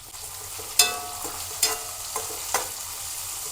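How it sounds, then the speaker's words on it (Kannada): Capsicum and green chillies frying in a pan, a low sizzle under about four distinct spatula scrapes spaced roughly a second apart, close by and without speech. "ಸ್ವಲ್ಪ ಕ್ಯಾಪ್ಸಿಕಮ್ನ ಚೆನ್ನಾಗಿ ಬೇಯಬೇಕು ಚೆನ್ನಾಗಿ ಫ್ರೈ ಮಾಡಿ"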